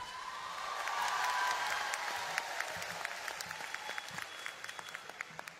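A crowd's applause swells and then settles into a steady, fairly distant patter of many hands clapping, heard without any talk over it.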